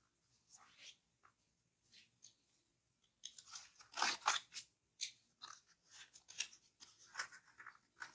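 Cardboard packaging of a Samsung 25W fast charger being cut open at the seal and pulled apart: quiet, scattered crinkles and scrapes at first, then a denser run of close, crisp crunching and tearing bursts.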